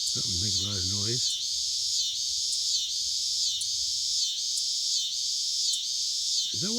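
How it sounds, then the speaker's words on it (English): A cicada buzzes on a farm in a loud, steady high drone that pulses in regular waves, with someone talking briefly at the start and end. "Is that one of them cicadas?"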